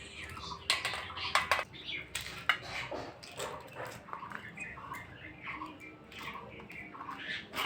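Green peas are shelled by hand at close range, their pods snapping and cracking in quick, irregular clicks, with a faint bird or dog sound in the background.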